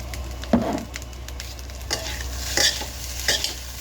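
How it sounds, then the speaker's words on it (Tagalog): Food is stirred in a sizzling pan, with a close, continuous fry hiss punctuated by several scraping utensil strokes against the pan. "Halu-haluin nyo lang"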